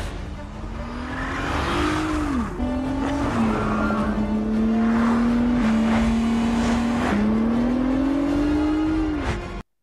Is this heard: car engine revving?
yes